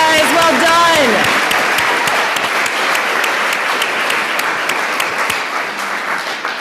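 An audience at a school senior speeches event breaks into loud, sustained applause that slowly tapers, with a voice speaking briefly at the start and cheers mixed in.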